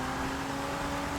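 A Ford GT in a racing video game gives off a brief, continuous engine whine with a steady tone and dense noise around it, loud and close.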